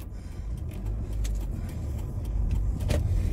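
A car pulls away on the streets of an old Dutch town, its engine rumble rising steadily, with small clicks and knocks over a continuous low road noise.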